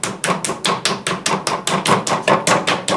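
A lump of clay smacked repeatedly onto a pottery wheel head, a dozen close, loud, evenly spaced slaps in quick rhythm with nothing else heard.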